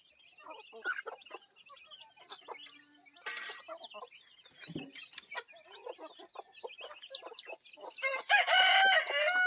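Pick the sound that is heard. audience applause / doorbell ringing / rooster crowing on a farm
rooster crowing on a farm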